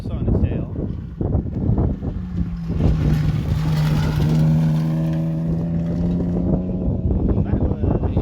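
A Tabor Mazda Speed 3 rally car drives past on a rally stage, its engine note rising in pitch as it accelerates, with gravel rumble, wind noise and a commentator talking over it.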